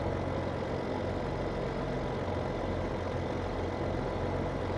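A tractor engine in the video game Farming Simulator 2017 hums at a steady idle, a constant low droning rumble with no speech over it.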